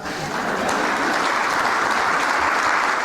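A room of bankers at a Washington event gives steady, dense applause during opening remarks, a continuous broad wash of clapping that holds at an even level throughout.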